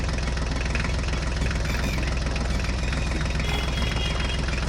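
A small mini tractor engine runs steadily at close range, a continuous low chugging drone with a knocking rhythm and no voices over it.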